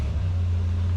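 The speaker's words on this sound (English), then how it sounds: "This car actually has a really good tone." A throaty 1-liter collector car engine revving, a loud low rumbling drone held steady and close for about a second with no talk over it.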